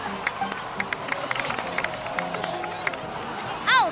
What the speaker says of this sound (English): so please give another round of applause for them